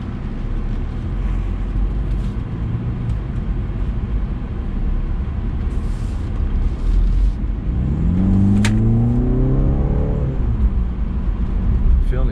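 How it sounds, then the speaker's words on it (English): A 4-cylinder turbocharged 2020 BMW 330i accelerating, heard from the cabin as a steady, loud engine drone and road rumble that rises in pitch through the second half. "This car has the 4-cylinder turbocharged engine."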